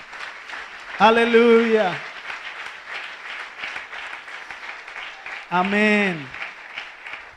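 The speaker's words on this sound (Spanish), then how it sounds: "Denle un aplauso al Señor." Church congregation applauding softly in the background while voices call out twice over the clapping.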